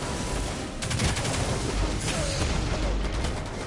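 Rapid gunfire bursts from a shooter in Destiny 2, repeated shots packed into dense, loud volleys that run steadily throughout with little pause.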